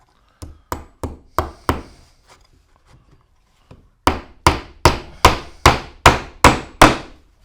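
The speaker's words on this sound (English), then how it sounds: "you don't want to drive that nail all the way in or it'll go into your table." A hammer strikes a nail into wood at a woodworking bench, five sharp knocks, a pause with faint small taps, then a loud steady run of eight evenly spaced blows, close and alone.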